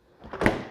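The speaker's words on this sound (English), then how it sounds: "this drawer in the middle, which can be a refrigerator or a freezer" A refrigerator drawer in a home kitchen slides open with a soft, short whoosh that swells and fades, close and fairly quiet.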